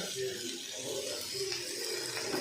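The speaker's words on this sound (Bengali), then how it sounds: "এটা থোর ভাজছি, থোর" Banana blossom frying in a pan, a steady hiss and sizzle running the whole way through at moderate level, with faint voice-like tones over it.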